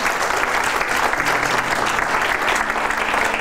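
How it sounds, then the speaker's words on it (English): An audience at a conversation event gives steady, dense applause, with many hands clapping loudly and evenly for a few seconds. "You can give her applause."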